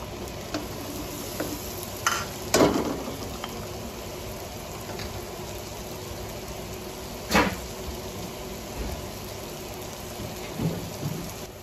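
Onions sautéing in very hot butter for a sweet and sour lapu-lapu fish fillet dish, a steady crackling sizzle broken by several louder clattering stirs and pan knocks, no talk.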